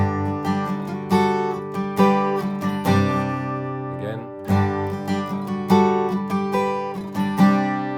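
Campfire-style acoustic guitar strums a riff in standard tuning, with steady, full chord strokes in a down-up pattern, loud and close, a brief pause midway and no voices.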